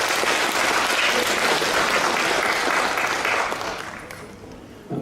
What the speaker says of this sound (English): Please clap your hands together for our senior performance.